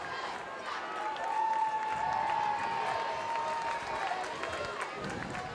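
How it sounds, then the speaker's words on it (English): Crowd at a high school football game letting out a Bronx cheer, a broad murmuring roar of voices with a sustained tone rising through the middle, moderately distant. "Little Bronx cheer from the crowd"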